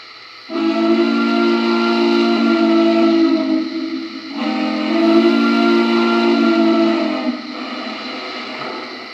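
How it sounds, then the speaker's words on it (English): A deep, mellow Norfolk and Western hooter steam whistle from a Lionel model locomotive sounds in two long, steady blasts, its low hooting tone strong and close with slight wavering between blasts. "Norfolk and Western Hooter."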